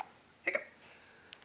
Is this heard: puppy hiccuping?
yes